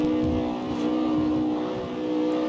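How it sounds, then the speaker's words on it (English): A car engine in the street-racing video game CarX Street revs from a standstill, a steady loud droning whine with layered tones holding continuously, rising slightly without any speech. "I want to try to see if I can just stop fully and then start revving it."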